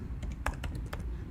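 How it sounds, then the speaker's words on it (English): Quick, light keystrokes tap out a short burst on a computer keyboard, close and fairly quiet, with no talking. "I'm gonna just simply type here"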